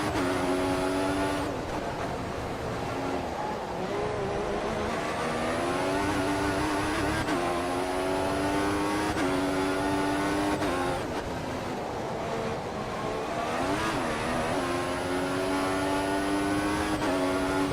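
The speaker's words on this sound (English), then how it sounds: "we are lapping Ericsson here for the first time this race" Race cars in F1 2014 on PC lap the Spanish circuit, engines screaming and whining up and down through gear changes. A loud, continuous high-revving drone runs throughout, with no talk.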